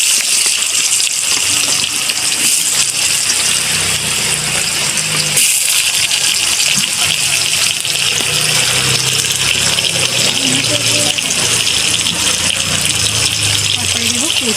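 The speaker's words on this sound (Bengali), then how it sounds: "আলু আর কচুটা আগে আমি ভালো করে ভেজে নেব।" Potatoes and taro fry in hot oil with a loud, continuous sizzling hiss that stays steady throughout, with a low background rumble beneath it.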